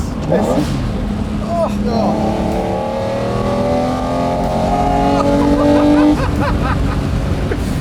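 A powerful Lamborghini Murcielago V12 engine revs loudly and rises in pitch, with people talking and exclaiming over it.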